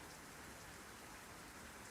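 Heavy rain falls steadily in a Honkai Impact cutscene, a dense, even hiss of downpour with no breaks across the short stretch, fairly quiet and with no voices over it.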